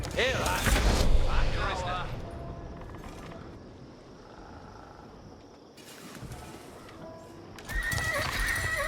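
Horses of light cavalry in the Age of Empires IV video game, with galloping clip-clop hooves and whinnies among battle noise, loudest at the start and end and quieter through the middle.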